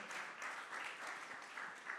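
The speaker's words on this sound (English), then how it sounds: "Yes, clap for the Kenny." Audience applause at an industry meetup in Miami, a steady, soft wash of many hands clapping at some distance, continuous for the whole stretch with no talk over it.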